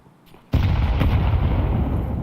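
A stack of grenades detonates in Counter-Strike during an IEM Cologne 2025 match, a sudden heavy blast after a quiet moment that rolls into a loud, sustained rumbling roar.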